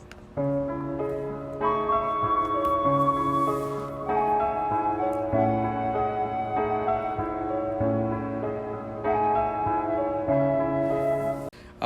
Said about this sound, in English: Right now, I got my FLUTE sample.